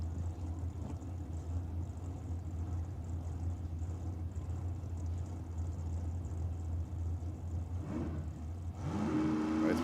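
A small-block Chevy-powered S10 drag car idles with a loud, steady engine rumble at a dragway, the note building and rising sharply into revs near the end.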